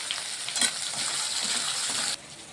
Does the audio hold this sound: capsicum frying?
yes